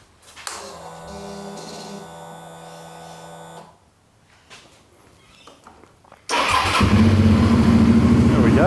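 A Gen 1 Suzuki V-Strom 650 motorcycle after an air filter and spark plug change: a tonal whine first, then a quiet pause, then the engine starts and settles into a loud, steady close-up idle.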